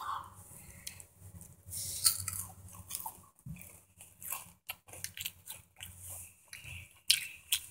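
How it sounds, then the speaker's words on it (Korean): Someone eats a spoonful of Kinder Joy chocolate cream with crunchy bits, making close, uneven chewing and crunching sounds with small wet clicks and pauses between bites. "초코 한 스푼 먹어보도록 하겠습니다"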